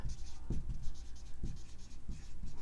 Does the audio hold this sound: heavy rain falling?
no